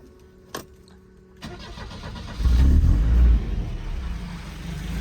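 An abandoned blue 242 car's engine cranks briefly on the starter, catches with a loud rumbling surge and revs, then settles into a steady idle, close by and alone.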